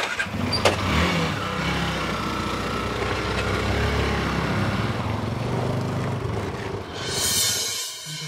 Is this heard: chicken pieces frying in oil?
no